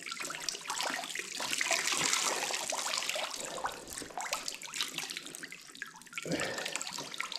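Water splashing and sloshing continuously as wet beaver pelts are wrung out and worked in a basin of cold water, with steady running-water hiss throughout.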